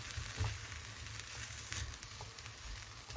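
Peppers cook dry in a hot pan as the last liquid boils off, giving a steady, soft sizzle with faint crackles throughout and no voices.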